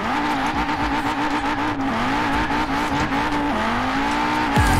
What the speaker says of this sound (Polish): Ale dźwięk jest kozacki, ja pierdzielę. Ja nie wiem, co ta Audica za silnik ma